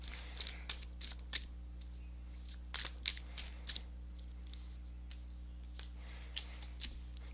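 Tarot cards being shuffled by hand come through as a series of short, crisp riffles and flicks, several quick bursts early then sparser ones, fairly close against a quiet background hum.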